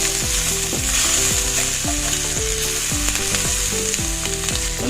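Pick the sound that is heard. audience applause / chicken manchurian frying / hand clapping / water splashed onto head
chicken manchurian frying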